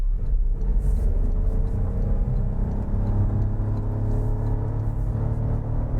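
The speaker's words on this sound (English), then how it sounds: "Can hear the CVT whirring away, and there's 60." A 2026 Toyota Aygo X with a CVT accelerates hard from a standstill to 60, its engine drone and steady transmission whir rising continuously and loudly from inside the cabin with road rumble underneath.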